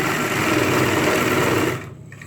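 A sewing machine stitching ladies' pants with a side zip runs in a steady, loud, continuous whir for nearly two seconds, then stops abruptly, leaving quiet room sound.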